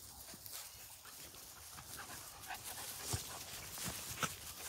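Beagle puppies being readied as rabbit dogs pant and sniff close by, a soft continuous breathy panting with small snuffles and faint whimpers outdoors, no talk.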